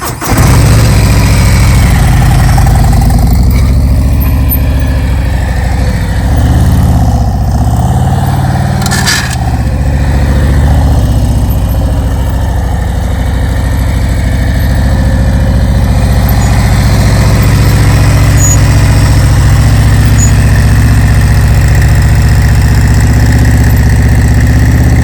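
A heavy motorcycle engine running at slow riding speed, a loud continuous low rumble that holds fairly steady throughout, with slight shifts in pitch as the throttle changes and a brief sharp noise near the middle.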